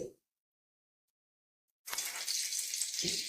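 Manchurian balls slide into hot oil in a kadai: after near silence, a sudden loud, steady sizzle and crackle of frying erupts and continues.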